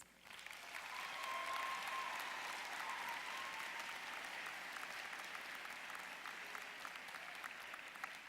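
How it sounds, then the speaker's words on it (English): Audience applause fills a university College of Social Work commencement ceremony, a steady wash of many clapping hands that swells in the first seconds and holds evenly throughout, fairly distant and without talk. "and another round of applause"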